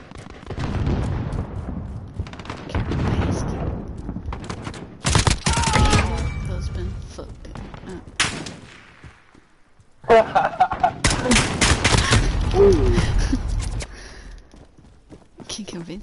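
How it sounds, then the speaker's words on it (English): Bursts of gunfire in a Call of Duty Modern Warfare match, sharp clustered shots separated by quieter stretches, with a voice talking in between. "Oh, those shots there."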